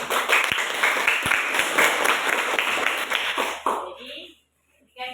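A classroom group claps and applauds loudly for several seconds, then the clapping fades to silence and a voice begins.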